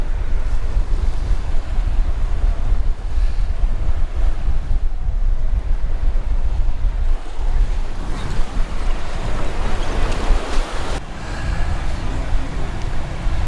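Surf and wind at Higgs Beach in Key West, a loud continuous wash of waves with gusty wind rumbling across the microphone, unbroken throughout.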